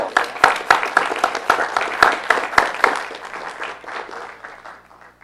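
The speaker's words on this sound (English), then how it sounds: "There should be applause." Audience applause at a gathering: a burst of dense clapping close by, strongest at the start and slowly thinning and fading over a few seconds.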